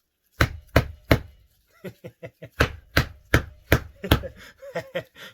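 A series of sharp, loud wooden chopping strikes from a knife splitting firewood indoors, close by, in an irregular rhythm with quicker, lighter taps between heavier blows.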